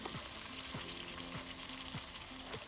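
Beer sizzling and frying in a hot pan while stew meat cooks for shepherd's pie, a steady close crackle with a few stirring scrapes, no talking.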